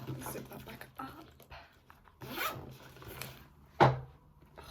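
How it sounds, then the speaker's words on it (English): A clothing zipper is drawn in several close, rasping strokes, with one last sharp pull near the end, amid quiet room sounds. "Zip that back up."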